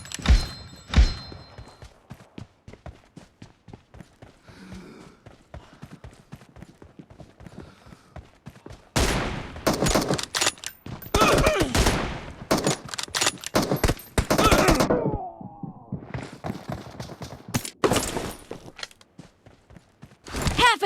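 Rapid bursts of automatic gunfire and sharp single shots from a PUBG Mobile match, loud and close, coming in dense clusters with short gaps between volleys.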